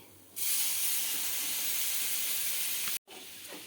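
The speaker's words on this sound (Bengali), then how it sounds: "এখন আমি দু কাপ দুধ নিয়ে নেব নর্মাল আর দুধটা আমি দিয়ে দিচ্ছি" Milk is poured into a pan of hot butter and flour for a white sauce, setting off a sudden loud, steady hiss that runs for a few seconds, then cuts off abruptly.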